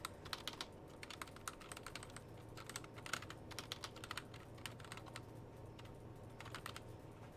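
Rapid, steady typing on a computer keyboard, close and quiet, with irregular clusters of key clicks continuing throughout over a low background hum.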